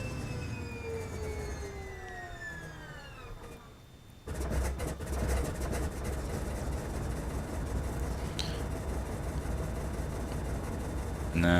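Twin-engine Pe-2 bomber in IL-2 1946. A starter whine rises and falls before a short lull, then the engine catches into a loud, steady, rough drone that carries on to the end.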